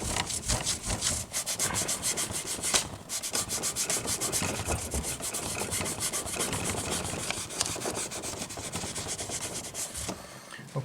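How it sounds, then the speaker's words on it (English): Hand buffing and polishing the frets of a Tradition G10 Strat-style electric guitar makes a continuous close rubbing scrub in quick back-and-forth strokes, broadband and steady with brief pauses between strokes. "buff and polish them all out in order to get the best of them"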